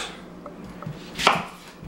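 A knife trims the top and bottom ends off onions, giving a few soft taps on a board and then one firm, crisp cut, close and with no talking.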